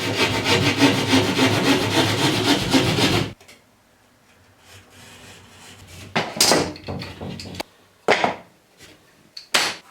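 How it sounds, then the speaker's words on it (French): A plasterboard saw rasps rapidly through plasterboard for a few seconds, then stops; quieter scraping and a few sharp knocks follow. "vous prenez donc une scie à placo, scie crocodile ou équivalent, et vous allez couper donc."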